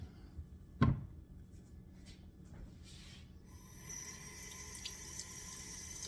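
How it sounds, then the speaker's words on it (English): Running tap water rinses whole delicata squash in a kitchen sink, a steady rushing flow starting midway and continuing to the end, preceded by a sharp knock and a few faint handling clatters. "I would definitely rinse them off because we're not peeling them"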